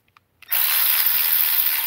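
A 16.8V Urceri cordless drill driver starts after a few faint clicks. It spins up into a steady, high-pitched motor whine that holds constant and loud to the end.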